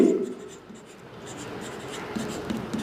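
Pen scratching on paper while solving a maths problem, faint soft strokes in short bursts near the end over a quiet room background.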